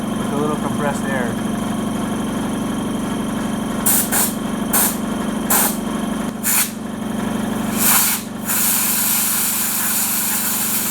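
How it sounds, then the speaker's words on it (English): Short blasts of compressed air spray dirt out of a rebuilt secondary air pump and relay from a C55 AMG W203 Mercedes-Benz, several hissing bursts over a steady engine-like hum. "I'm just spraying out the parts with a little compressed air."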